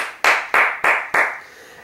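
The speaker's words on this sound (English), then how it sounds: "Clap for that." Four sharp hand claps at an even, brisk pace, close and loud, each with a short decaying tail. No other sound is present.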